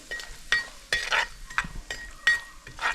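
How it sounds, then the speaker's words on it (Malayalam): Pieces of coconut frying in hot coconut oil in a pan, a steady sizzle broken by stirring scrapes and light clinks of a utensil against the pan, close by. "എൻ്റെ വെളിച്ചെണ്ണ ചൂടായിട്ടുണ്ട് അതിലേക്ക് ഞാൻ തേങ്ങാക്കൊത്ത് ഇട്ട് കൊടുക്കുകയാണ്"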